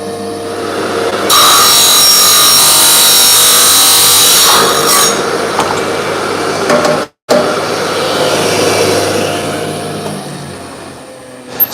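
Saw cutting through a golf club shaft to length in a workshop, a loud steady rasping stroke that runs for several seconds, pauses abruptly for a moment, then resumes and trails off.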